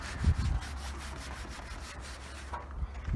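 Close gritty rubbing on old single-stage car paint as heavy rust contamination is worked off the surface, a steady abrasive scrub with a couple of stronger strokes, heard alone.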